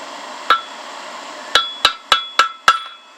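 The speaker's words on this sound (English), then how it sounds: "So we'll just heat that tip up and we'll cut it off." Hot steel tip struck on a blacksmith's cutoff, one ringing hammer blow followed after a pause by five sharp metallic strikes in a quick even rhythm, close and loud with short ringing decays.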